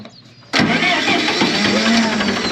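A tractor engine turns over and catches after a quiet moment, then runs loud and steady with a rough, close rumble. It is on a farm being readied for cutting hay.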